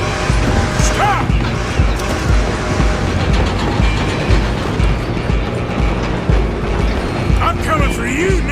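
A moving train in Red Dead Redemption 2 rumbles and clanks loudly and continuously through a busy game scene, mixed with scuffling, shouts and other action noise.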